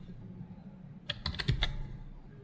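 A handful of quick keystrokes tap on a computer keyboard, five or six crisp clicks in a short burst, close and quiet after a moment of low room hum.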